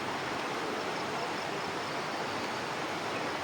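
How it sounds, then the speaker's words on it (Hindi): Heavy rain pouring down on and leaking into a bus, a steady, dense hiss that stays even and unbroken throughout with no voices. "बस में भी अंदर तक बारिश आने लग गई।"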